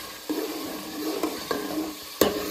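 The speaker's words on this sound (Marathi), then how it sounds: "छान लसूण अद्रकचा पेस्ट आता लालसर होऊ देणार आपण" Garlic ginger paste frying in a pan for a village-style chicken curry, with a steady sizzle and a few sharp stirring scrapes at intervals, close and moderately loud.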